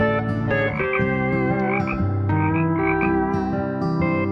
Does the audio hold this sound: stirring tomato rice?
no